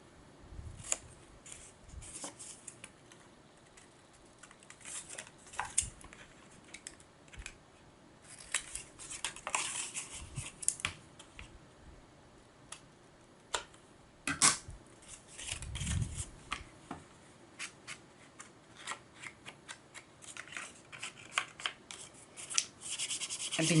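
Scissors snip off small corners of paper or card during clock-making craft work, giving repeated short cuts and rubbing sounds at close range with no talking.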